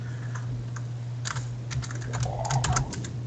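Keys typed on a computer keyboard during a tabletop Pathfinder role-playing session, irregular clustered taps in the foreground over a steady low hum, with no talk.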